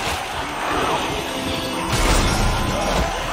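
A heavy crash and thwack as an enemy smashes into a door in Dead Space 2, loud and close over a dense, roaring game background, with a stronger impact burst near the middle.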